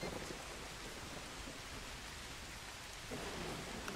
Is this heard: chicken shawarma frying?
no